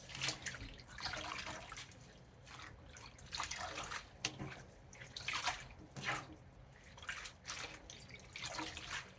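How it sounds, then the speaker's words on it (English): Tap water runs into a kitchen sink as collard, turnip, mustard or kale greens are rinsed, giving a steady splashing stream broken by bursts of spattering and dripping as the leaves are moved under the flow. "So here we're going to rinse them again."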